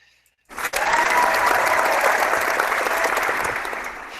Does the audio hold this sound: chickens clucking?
no